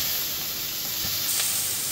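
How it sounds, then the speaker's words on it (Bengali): Onion and prawns frying together in a pan, a steady close sizzle and hiss running the whole time with no talk. "একসাথে একটু ভাজা ভাজা করে দেবো"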